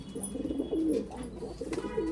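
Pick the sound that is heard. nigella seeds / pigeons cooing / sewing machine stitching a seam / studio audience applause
pigeons cooing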